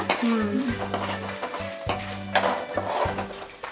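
Curry leaves frying in hot oil for khara mandakki, a crackling sizzle under repeated scraping and stirring of a spoon against the pan, with light metallic clinks.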